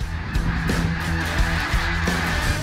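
Geese honking during a migratory bird hunt at Lac Saint-Jean, Saguenay, a steady chorus of calls, fairly loud and continuous, with no talking.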